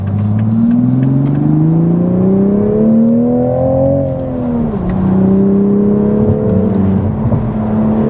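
A Toyota GR Supra MkV sports car driven hard on a twisty road, its engine note rising steadily as it revs up, dropping briefly at a gear change, then climbing again, loud and close with no talking.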